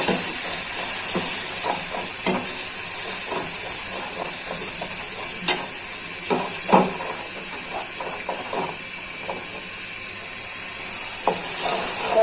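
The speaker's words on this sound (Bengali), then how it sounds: "এখন শুটকির বাটাটা দিয়ে দিচ্ছি। শুটকি আর মরিচ রসুন একসাথে বাইটা দিচ্ছি।" Dried chepa fish paste ground with chilli and garlic hisses in a hot pan, a continuous steamy sizzle broken by scattered scraping and tapping of a spatula, close and fairly loud.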